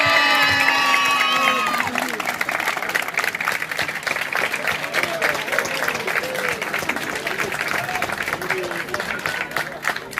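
An audience applauding a singing contest candidate, Océane, in Surgères: sustained dense clapping with some cheering after a singing voice fades out, moderately loud and continuous.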